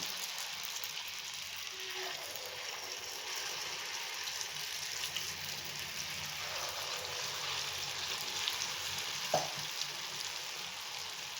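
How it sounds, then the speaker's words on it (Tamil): Kara bonda batter fries in hot oil, a soft, even sizzle that keeps going throughout, with a few light clinks of a utensil near the end. "நம்ம ஒன்றா வந்து நம்ம மெதுவாக எண்ணெயில் வந்து ஊற்றலாம்."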